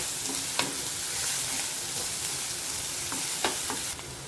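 Onions sizzle steadily in ghee in a pan for matar pulao, a constant close frying hiss broken by a few soft stirring clinks.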